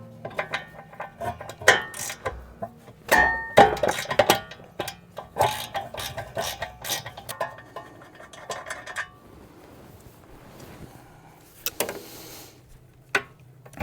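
A ratchet works loose a 17 mm brake caliper bolt on a Nissan Z31's rear end: sharp metallic clicks and clanks of tools come in irregular bursts, some near and loud, with short quiet gaps between them.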